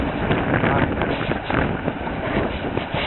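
Wind rushes and buffets the microphone while sailing on the Venice Canal, a loud, steady roar close up with no clear voices.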